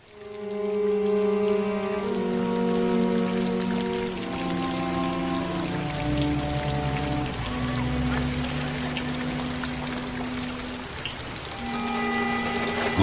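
Summer rain falling, a soft continuous patter beneath sustained musical tones that shift slowly from chord to chord.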